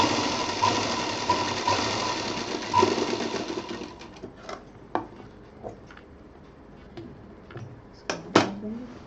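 A sewing machine double-stitches the corner of a fabric bag, whirring steadily and close for about four seconds before stopping, then scattered clicks and light handling noises follow.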